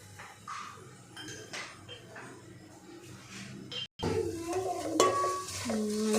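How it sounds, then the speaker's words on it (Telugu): Salt being stirred into a poha tempering in a pan, with a spoon clinking and scraping against the metal over a soft sizzle, the stirring growing louder near the end. "మంచిగా ఇట్లా కలుపుకోవాలి."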